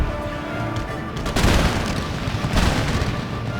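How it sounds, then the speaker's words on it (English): Naval cannons fire in Empire: Total War, heavy booms landing in two loud bursts over a dense rumbling battle ambience. "Excellent firing from our cannons today."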